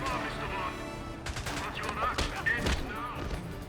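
Bursts of gunfire from the James Bond 007: Blood Stone video game, several sharp shots in quick succession over a busy game soundscape, with someone talking over it.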